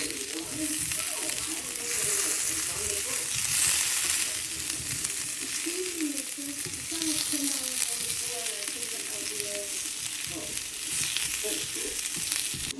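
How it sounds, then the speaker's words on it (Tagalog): Potatoes frying in a pan with seasoning: a steady, bright sizzle and crackle of oil, close and continuous, with occasional scraping stirs and someone talking faintly underneath. "Ganyang luto ng patatas ang sarap mga loves"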